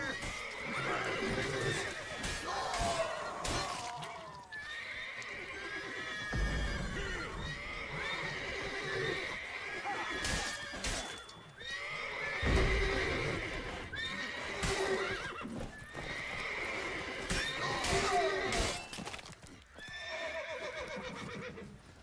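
Video game horses whinny and neigh repeatedly and loudly over a busy stretch, with hooves clip-clopping and other game sounds mixed in throughout.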